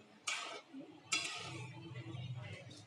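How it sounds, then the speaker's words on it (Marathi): A spatula scraping and stirring spring onion greens in a pan, two sharp scrapes followed by a soft ongoing sizzle and rustle, fairly quiet. "परतून घेऊ आता आपण ती छान असं भाजी मिक्स करून घेऊ"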